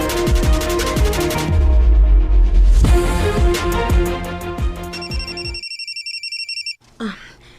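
A telephone bell rings loudly in repeated bursts over several seconds inside a home, cutting off abruptly near the end, followed by a short rustle.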